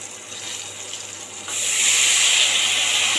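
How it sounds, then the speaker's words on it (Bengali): Water pours steadily into a pan of mung dal tempered with mustard seeds, salt, turmeric and green chilli. The close, hissing splash grows louder and fuller halfway through, and no one speaks. "এখন এর মধ্যে আমি জল দিয়ে দেবো"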